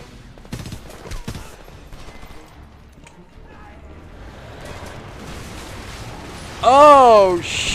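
Sharp gunfire bursts and a heavy blast crackle through combat in the first-person shooter Homefront on PC, followed near the end by a loud, wavering siren-like tone.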